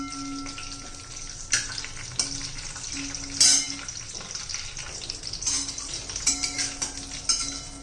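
Raisins frying in hot ghee give off a steady low sizzle, punctuated by sharp scrapes and clinks of a spoon stirring against the pan, heard up close with no talking.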